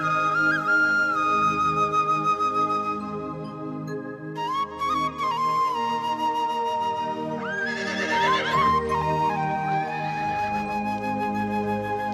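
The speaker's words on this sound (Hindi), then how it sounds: "द्वारपाल, सिंगा जी को सयाड़ी घोड़ी दे दी जाए" A horse neighs repeatedly in loud, wavering whinnies over a steady musical backing, with one high, strained whinny standing out near the middle.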